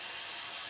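A food processor blitzes walnuts and water for nut milk, giving a steady, loud, close whirring roar with no pauses and no voices.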